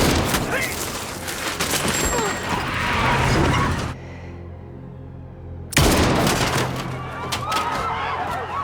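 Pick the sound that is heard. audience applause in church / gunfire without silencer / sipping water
gunfire without silencer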